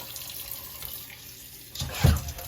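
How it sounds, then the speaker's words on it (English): Tap water runs into a pot for rinsing saltfish, a quiet steady trickle that swells into a louder splashing gush near the end of the short stretch. "I'm gonna catch some water into the pot and I'm gonna rinse the saltfish off"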